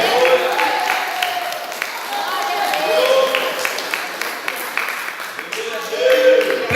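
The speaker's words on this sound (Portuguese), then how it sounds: "Uma salva de palmas para o Senhor Jesus Cristo" A church congregation at a Saturday service breaking into applause, many hands clapping in a sustained crowd patter with voices mixed in.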